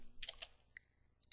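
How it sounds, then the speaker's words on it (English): Typing on a computer keyboard: a quick cluster of light key clicks, a short pause, then a few more isolated taps, close and faint with no talking. "let's start out by typing in logger space"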